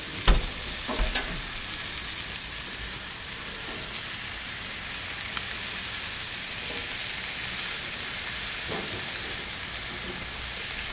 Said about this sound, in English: puts a nice chop there, nice little sear as it goes on, and we're just going to pop them on